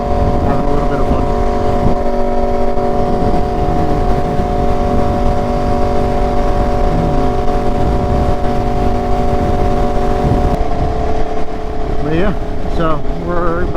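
Aprilia RSV4 sport motorcycle with a BT Moto tune cruising at a steady engine drone, strong constant harmonics through the ride with a brief rise near the end; faint voice fragments sit beneath it.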